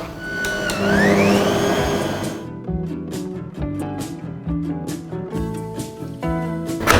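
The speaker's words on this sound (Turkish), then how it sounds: "Şimdi tekrar çırpıyorum." An electric mixer whips cloud bread batter tinted with food coloring. A loud motor whine rises in pitch, then gives way to an uneven whirring churn with rhythmic pulses, heard close up with no talking.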